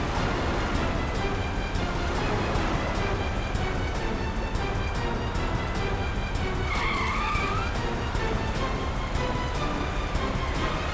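A car driven recklessly in a CID television crime drama scene gives continuous loud tire skidding and engine roar, with a higher squeal rising near the middle.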